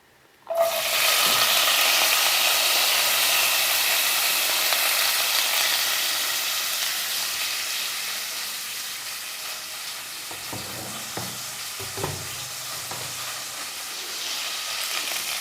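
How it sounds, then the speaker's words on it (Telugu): Chopped onions and curry leaves hit hot oil with a sudden loud sizzle that settles into a steady, bright frying hiss, easing slightly over time with faint stirring near the end. "ఆయిల్ వేడయింది. మనం ముందుగా కట్ చేసి పెట్టుకున్న ఉల్లిపాయలు అలాగే కరివేపాకు వేసుకుందాం."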